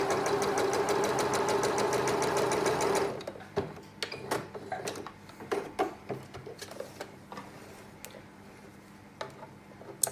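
A sewing machine runs steadily for about three seconds while chain-piecing the last seams of a cross quilt block, then stops, leaving scattered clicks and light handling noises of fabric and thread.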